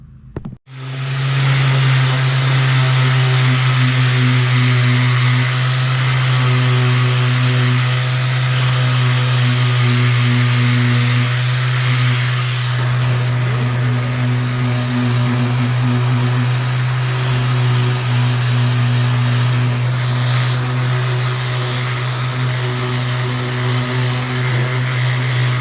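A power sander works on a squarebody Chevy crew cab truck body to strip white paint, giving a loud, steady motor drone with a constant low hum that runs without a break for about twenty-five seconds.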